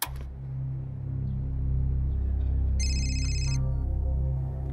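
A phone ringtone chirps briefly in the middle of a crime documentary scene, a short high warbling burst over a loud, steady low hum of music or background drone.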